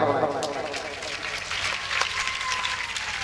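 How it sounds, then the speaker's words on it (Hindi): Sustained audience applause at a devotional Meera Bai story performance, a steady dense crowd clapping filling the whole stretch with even loudness. "जरा जोरदार तालियों से हौसला बढ़ाएं।"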